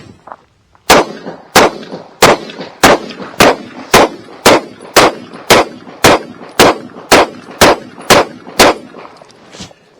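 A Ruger RXM pistol loaded with hollow-point rounds fires about fourteen loud, sharp shots at a steady pace, each crack followed by a short ring, with no talking.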